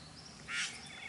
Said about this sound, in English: Male Satin Bower Bird, first day of spring, 2022.